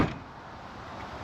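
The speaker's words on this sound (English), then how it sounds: "And now I'll close the other door just to make sure." A vehicle door closing after an Aluminess ladder and tire mount installation, a single solid thud at the very start fading into a low steady hum.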